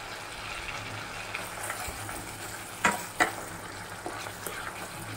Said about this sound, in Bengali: কষাতে থাকতে হবে পুরো একদম মশলাটা